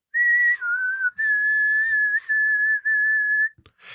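A person whistles in imitation of a dial-up modem's pickup tone: a series of sustained, pure high notes with a short dip in pitch, broken by brief pauses, loud and close.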